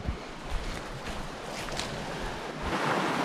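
Steady broadband rush of a river flowing beside a campsite along the Dempster Highway, continuous and fairly loud throughout, with no voices.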